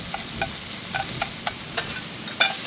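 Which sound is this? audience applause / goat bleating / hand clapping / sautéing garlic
sautéing garlic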